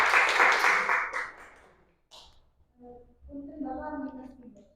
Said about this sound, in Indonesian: Kasih aplaus buat Herika.